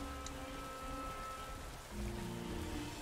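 Steady rainfall in the video game Pokémon Scarlet, a faint continuous patter of drops with low ambient background and no talk.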